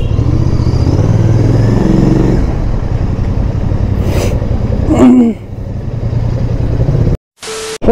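A Royal Enfield Interceptor motorcycle idles and rumbles at a showroom, a steady low engine drone that swells briefly with a rev before cutting out near the end.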